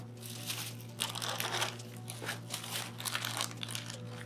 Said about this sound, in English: take out the battery, remove the unit from its packaging